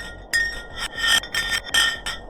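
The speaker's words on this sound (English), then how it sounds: "they decided to drop some ice to the bottom of the hole to see what would happen next" A block of ice drops down a deep Antarctic ice borehole, giving a rapid series of sharp, ringing, glassy pings and rasps that repeat in quick pulses, loud and eerie with no voices.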